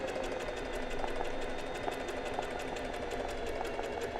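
A sewing machine doing straight-stitch embroidery runs at a steady pace, with a fast, even needle rhythm over a constant motor hum, close and uninterrupted.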